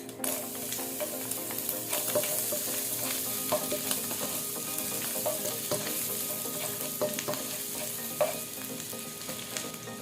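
Garlic frying in leftover oil in a pan, a steady close sizzle with faint stirring scrapes throughout, no voices.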